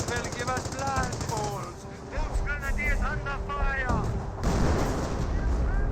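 Machine-gun bursts and rifle fire from a 30 cal and Volksgrenadier infantry trading shots at close range in Company of Heroes, busy and continuous under a commentator's steady talk.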